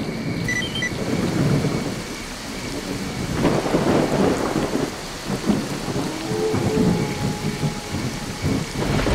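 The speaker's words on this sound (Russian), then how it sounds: "По темной дождливой дороге." Steady heavy rain pours in the S.T.A.L.K.E.R. Clear Sky game along a dark road, with rumbling thunder swelling and rolling beneath it throughout, loud and continuous with no voices.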